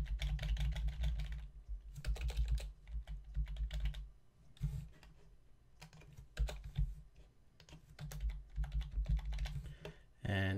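Typing credit card details on a computer keyboard: a steady run of close, crisp keystrokes in bursts with short pauses, nobody talking.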